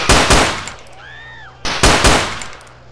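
Two bursts of automatic gunfire from a Battlefield 2142 weapon in GTA San Andreas, loud and close, with a brief mechanical whir between them and ringing tails after each burst.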